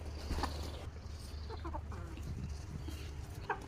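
Backyard chickens and a rooster clucking intermittently at moderate distance over a steady low hum, with short sharp calls near the start and end.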